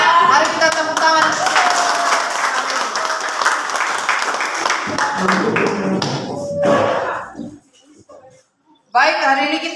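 Pupils in a classroom clap together for several seconds, a dense patter of hands mixed with voices and tapping, then the clapping dies away into near silence before a voice resumes.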